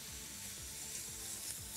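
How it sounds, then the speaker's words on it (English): Harissa chili paste sizzling and being stirred in a pan, a steady close hiss of frying with soft rhythmic scraping strokes repeating about every half second. "Give it a quick stir for 30 seconds and take it off the stove."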